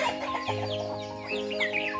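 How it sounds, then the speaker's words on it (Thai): Fighting cocks at a rural village yard cluck and chatter close by, a flurry of short overlapping clucks and squawks with no voices. "ไก่ชนของน้อง"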